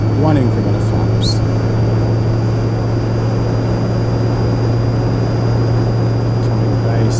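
An RC T-28 Trojan model airplane flies overhead with one increment of flaps set as it prepares to land, giving a steady continuous engine drone that holds at an even level throughout, with a strong low hum underneath.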